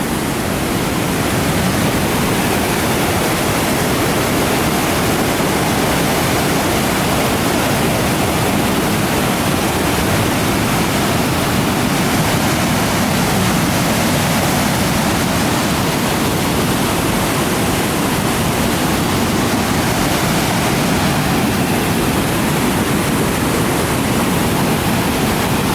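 Silver River Falls in Skanee roars as a loud, constant rush of falling water, broad and unbroken from start to finish with no voices.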